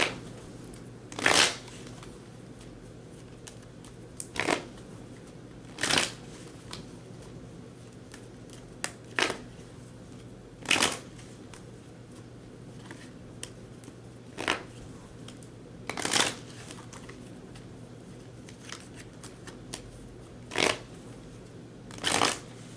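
Tarot cards being shuffled by hand in about a dozen short, crisp riffling bursts spaced a second or two apart over quiet room tone.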